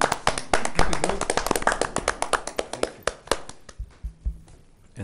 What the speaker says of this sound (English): May we give an applause?